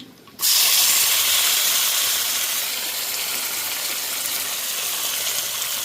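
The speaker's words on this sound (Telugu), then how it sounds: "ఇప్పుడు నేను ఈ దోసకాయ ముక్కలు అయితే సన్న ముక్కలు అయితే వేసేస్తున్నాను" Thin cucumber pieces drop into a hot oil tempering and set off a sudden loud hiss that settles into a steady, close sizzle.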